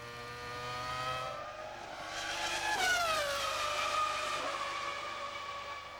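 F1 car engine in the video game F1 2000, a high-pitched whining engine that rises, sweeps through a gear change with a Doppler-like drop near the middle, then settles into a steady scream.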